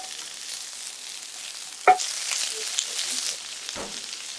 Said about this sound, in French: Faites frire le bacon dans une poêle sèche.